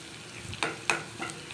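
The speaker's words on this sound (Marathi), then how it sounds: "लसूण चांगलं भाजून घ्यायचं" Crushed garlic fries in hot oil with cumin and mustard seeds, giving a soft steady sizzle with a few sharp stirring scrapes against the pan, close up and with no talking.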